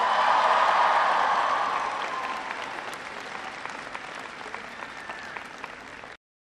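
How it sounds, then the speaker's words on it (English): Audience applause at a college event in Michigan, a loud, dense burst of clapping that slowly thins and fades over about six seconds, with no voices over it. "They give them a round of applause."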